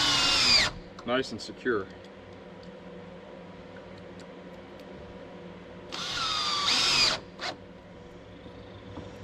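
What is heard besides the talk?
power drill driving screws into wooden deck boards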